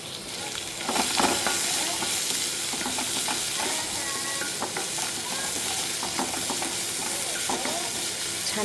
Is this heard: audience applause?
no